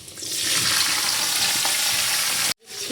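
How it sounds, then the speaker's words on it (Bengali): Green beans drop into a wok of hot oil tempered with nigella seeds and green chillies, setting off a loud, close, steady frying hiss that cuts off abruptly near the end, with no talking. "কালো জিরে কাঁচা লঙ্কা ফোড়ন দিলাম এবার আমি সিমগুলো কড়াতে দিয়ে দিচ্ছি"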